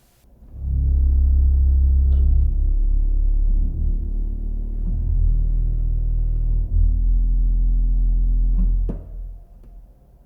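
A deep, sustained low tone from a 16-foot pipe organ pipe drones steadily for several seconds, swelling in and fading out, with a faint click partway through.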